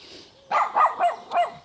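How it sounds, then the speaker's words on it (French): Small female dogs barking in the countryside, several quick high yaps in a short burst, close and fairly loud, with no voices over them. "c'est qu'ils aboient beaucoup. Ils aboient beaucoup, c'est les petites chiennes de ma sœur"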